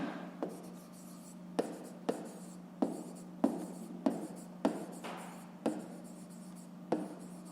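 Chalk or pen writes out a math fraction, about a dozen distinct scratchy strokes in a steady rhythm, close and fairly quiet over a faint hum, with no talking.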